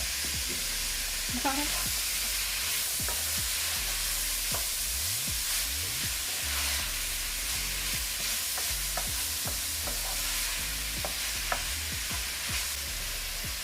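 Cabbage frying with salt and black pepper in a pan for Jamaican steamed cabbage, a steady close sizzle under repeated scraping stirs and clinks of the utensil throughout.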